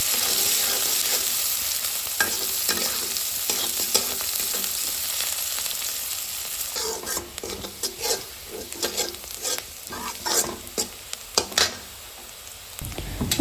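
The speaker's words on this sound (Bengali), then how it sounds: "এখন এই তেল একটু গরম করে এর মধ্যে দিয়ে দিব কেটে রাখা পেঁয়াজ ও রসুন। এগুলো একটু মচমচা করে ভেজে নেব।" Chopped onion and garlic fry in hot oil, a soft steady sizzle broken by irregular scraping and stirring knocks of a utensil against the pan that grow busier toward the end.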